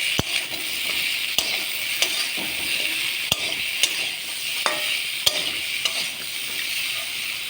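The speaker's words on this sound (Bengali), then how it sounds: "ছোটো চামচের 1 চামচ হলুদ দিয়ে দিলাম, দিয়ে ভালো করে একটু ভেজে নেব।" Potato, bitter gourd and jackfruit seeds frying with turmeric and salt in a pan, a steady bright sizzle punctuated by sharp clicks of a spatula against the pan every second or so, close and alone.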